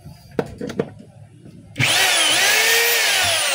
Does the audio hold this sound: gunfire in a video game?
no